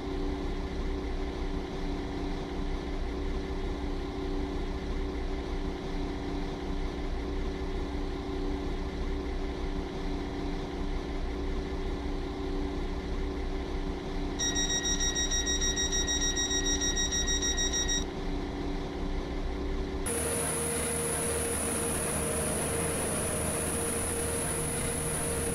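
A two-coach passenger train idles at a station platform with a steady low engine hum and drone. A brief higher chime-like tone comes partway through, followed by a brighter hiss near the end.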